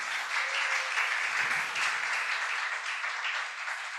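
Steady, full-room applause as an audience in a university philosophy faculty welcomes a guest lecturer, a dense even wash of clapping sustained throughout at moderate loudness with no voices over it.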